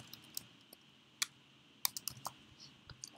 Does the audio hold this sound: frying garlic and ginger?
no